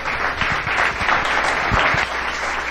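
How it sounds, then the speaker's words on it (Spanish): Dense, steady applause from a large audience at a TED event, loud and continuous throughout with no gaps. "es momento de que se escuche el aplauso para David Sasaki"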